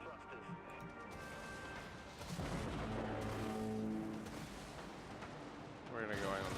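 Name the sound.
Vulture missiles launching from pods in Dreadnought video game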